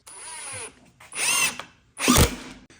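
A power drill drives screws into a wooden shelf in three separate bursts, each a rising whine that bogs down as the screw seats, loud and close with no talking.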